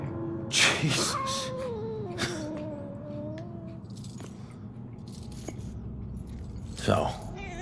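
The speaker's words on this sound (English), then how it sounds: "A cat!" A cat in the video game Murdered: Soul Suspect lets out a couple of drawn-out meows near the start, with game sounds and a player talking over it.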